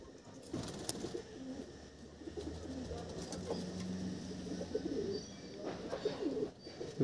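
High-quality desi pigeons coo in a loft, soft rumbling calls recurring through the stretch at a modest distance, with faint rustling and no talk.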